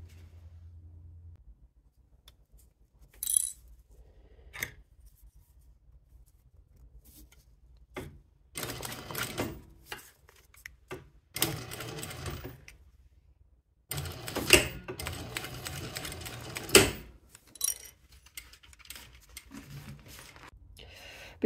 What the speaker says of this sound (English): we will go to the sewing machine and we are just gonna stitch the sides